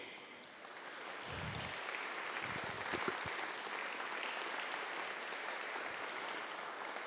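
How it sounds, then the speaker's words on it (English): Applause from an audience at an academic teaching and research symposium, a soft, steady wash of clapping from a room of people, fairly distant, with a few low thumps near the start. "please go ahead and stand so that we can give you a big round of applause"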